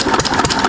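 A 6 HP Witte diesel engine runs steadily with a loud, continuous mechanical chug and regular rhythmic pulses throughout, close up and with no talking.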